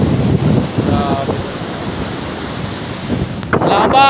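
Big Pacific Ocean waves roll and wash under heavy wind buffeting the microphone, loud and close, with a few brief voice fragments near the end.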